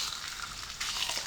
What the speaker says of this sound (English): We are frying the chapatis.